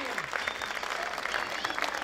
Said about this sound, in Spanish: Fuerte los aplausos para Chiquirín.